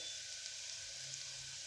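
Ground spices, including coriander-cumin powder and salt, sautéing in hot oil for a peel-on potato curry: a steady, soft hiss and fine crackle, continuous and fairly faint, with no voices.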